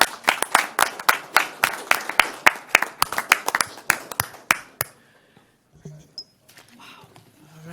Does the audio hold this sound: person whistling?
no